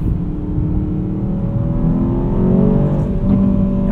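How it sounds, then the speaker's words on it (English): A 2024 Aston Martin DBX 707 with its exhaust in Sport Plus mode hums as a steady, close engine drone heard from the cabin, rising slightly in pitch as it pulls along. "We'll put the exhaust in Sport Plus."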